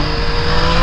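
A motorcycle engine holds a loud, steady high rev on the throttle while the bike is lifted into a wheelie, a continuous close buzzing drone across the short moment.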